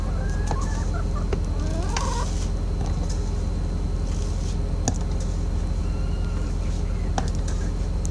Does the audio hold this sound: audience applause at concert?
no